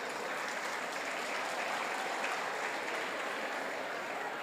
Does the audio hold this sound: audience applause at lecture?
yes